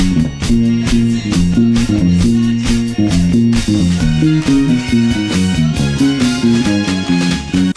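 Fast, skittering groove from the verse of a 1960s pop song, with a busy bass line, steady drums and dense band backing playing loud and continuous, no voices over it.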